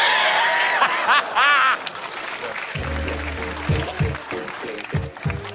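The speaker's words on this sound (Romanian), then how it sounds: "Aplauze." Studio audience applauding at a Romanian TV magic act featuring magicians Eduard and Bianca, a burst of clapping with some laughter, followed by a voice and a steady pulsing low beat of music.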